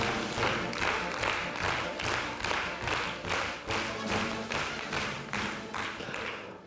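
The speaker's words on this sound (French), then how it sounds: "Merci de m'accueillir avec autant d'applaudissements" Audience at a centenary congress applauding to welcome a speaker, with steady, dense rhythmic clapping from a large crowd throughout.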